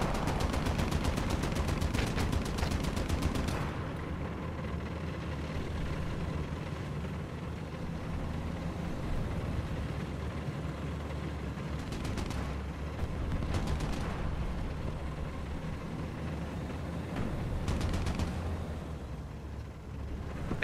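Machine gun fire and battle noise in a war video game with tanks, a dense continuous roar with several rapid bursts of broadband crackle that stand out near the start, in the middle and toward the end.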